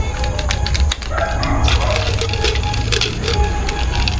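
Dogs bark at a farm where birds are readied for loading, with repeated yips and woofs rising over steady background noise and a rooster-like call nearby.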